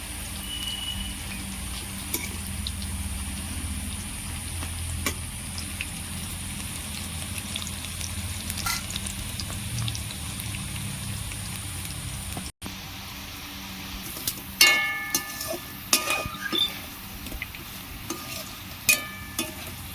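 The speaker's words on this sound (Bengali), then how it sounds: "নাড়াচাড়া করে ভালো করে লাল লাল করে ভেজে নেবো" Cauliflower 65 pieces deep frying in oil in a restaurant-style starter, a steady low sizzle with soft stirring scrapes, then brighter crackles and pops in the closing seconds; no talking.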